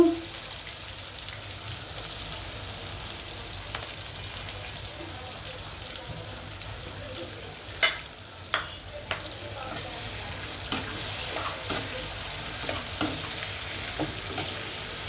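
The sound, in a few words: onion frying in hot fish-frying oil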